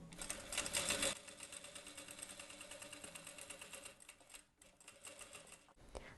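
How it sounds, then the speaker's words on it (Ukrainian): A sewing machine stitching a seam on checked fabric, a faint, steady rapid clatter of the needle running continuously with short pauses near the end. "З'єднуємо малюнок, перевіряємо і прокладаємо строчку."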